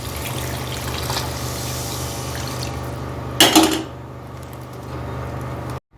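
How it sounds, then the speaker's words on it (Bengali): Hot water poured into a pan of pomfret fish masala, a steady watery rush over a low hum, ending in a brief louder splash and bubbling before the pouring stops. "এবার আমি এর মধ্যে দিয়ে দিচ্ছি জল।"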